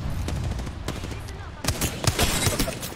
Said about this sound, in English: That was a triple shot.